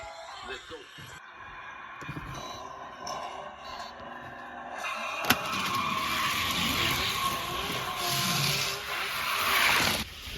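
Hot Wheels die-cast toy cars race down a track with a continuous rolling, rattling rumble that swells toward the end, under excited commentary.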